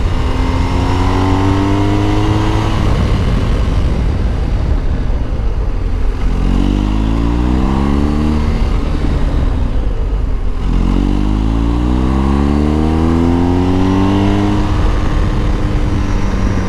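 A motorcycle brakes mid-turn on a track, its engine rising and falling through repeated rev sweeps, loud and close, with no talk over it.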